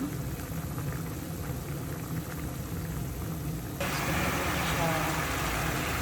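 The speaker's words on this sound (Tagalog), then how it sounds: "Simmer lang po natin hanggang sa kumulo" Pork adobo simmering in a pot with water gives a steady bubbling hiss that turns louder and brighter partway through, with a voice talking over it.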